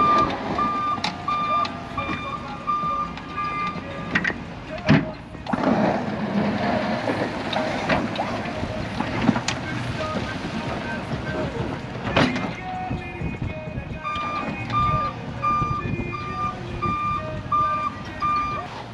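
A snow plow truck backs up after a snowstorm in America, its reversing alarm beeping in a steady even rhythm at the start and again near the end, set against broad traffic and engine rumble, with a voice talking over it.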